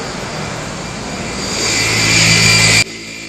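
Machine polisher buffing the paint of a Mazda CX-3 during glass coating in an indoor delivery room, a loud steady whirring drone that builds in intensity and then cuts off abruptly near the end.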